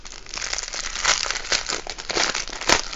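Crinkly plastic bags of diamond painting drills being opened, a steady close-up rustle and crackle that swells and fades over a few seconds with no talking.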